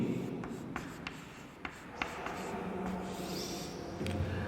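Chalk or a marker on a classroom board scratches and taps in irregular short strokes, faint and close, over a low hum with no speech.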